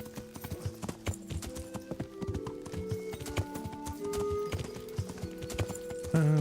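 Horse hooves clip-clop at a steady gallop in Kingdom Come Deliverance, a rapid repeating rhythm over game music with a brief whinny possible.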